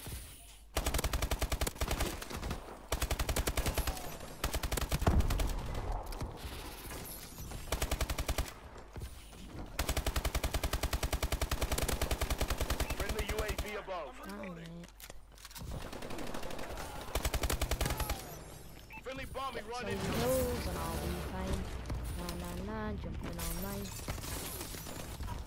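Bursts of automatic gunfire in Call of Duty: Advanced Warfare multiplayer, with rapid rattling volleys that start and stop, mixed with shattering hits and other battle effects across a long stretch.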